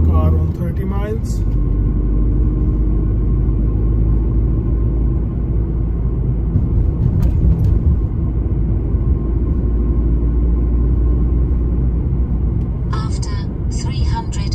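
Car driving on a 30 mph road during a driving test, a steady engine and road rumble from inside the cabin, with brief talk at the start and end.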